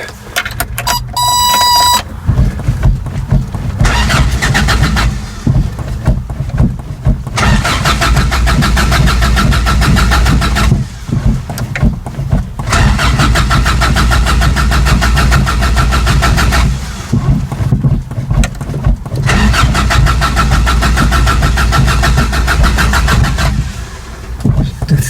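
A 1985 Toyota Pickup 22R engine cold-starting with repeated cranking, then running loud and rough with uneven revs and brief dips, recorded close with a short chime at the start.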